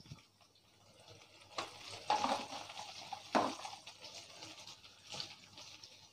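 Tomatoes and curry leaves fry in a pan with a soft, quiet sizzle, broken by a few close spoon stirs and scrapes.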